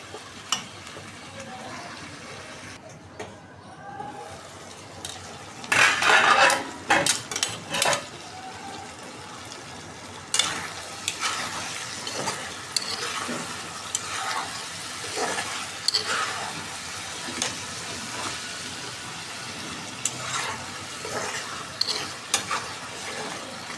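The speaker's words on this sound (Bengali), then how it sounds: "আস্তে আস্তে কষাই নেবো এখন।" Taro stems and hilsa fish sautéing in a pan, with intermittent scraping stirs and soft sizzling bursts, louder around the middle and fading to a quieter simmer, no talking.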